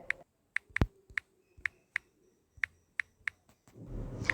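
Keys click one at a time on a computer keyboard as a search is typed, producing quiet, sharp taps at an uneven pace, followed by a soft rustle at the end.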